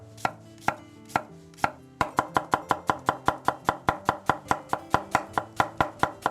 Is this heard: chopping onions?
yes